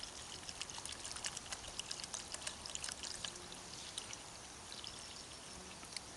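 Water pours steadily into a pot for cooking borscht over a wood fire, with a splashing, trickling rush that continues throughout, fairly close and moderately quiet.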